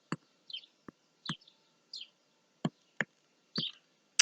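Small birds chirp in short, bright bursts outdoors in the evening, clear and fairly close against a quiet background, with a few sharp taps mixed between the calls.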